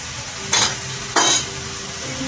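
Spices and raw garlic stirred in a frying pan for a fish-head moong dal, with two short bursts of scraping and sizzling over a steady low background hiss.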